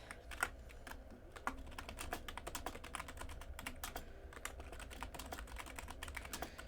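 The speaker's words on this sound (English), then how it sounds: "Yes, you can all hear me typing, I know." Quick, irregular keystrokes on a computer keyboard, with bursts of close, crisp clicks and short pauses over a faint low hum, fairly quiet throughout.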